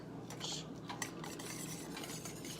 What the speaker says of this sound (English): Whisking cream cheese and mustard until smooth